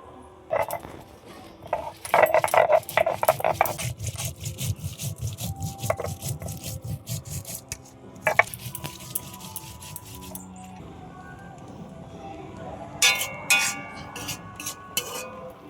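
Dried red chillies ground by hand on a grinding stone in a home kitchen, with close, steady back-and-forth rubbing and scraping strokes over about ten seconds, then sparser knocks and scrapes.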